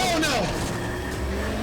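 A car engine in a racing simulator screams at high RPM against the rev limiter, its rising and bouncing tones loud and close, with a voice heard over it.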